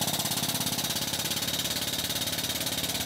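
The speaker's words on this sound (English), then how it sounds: "I'm just going to start pumping again." A Porta Power hydraulic jack is pumped to level deck framing, a fast, steady, mechanical pulsing throb repeating evenly and close, with no voices.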